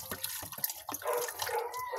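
Running water splashes while dishes and drinking glasses are rinsed at a sink, with clinks and knocks of glassware early on giving way to a steady close stream of water.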